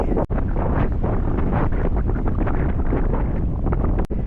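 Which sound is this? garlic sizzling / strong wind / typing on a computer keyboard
strong wind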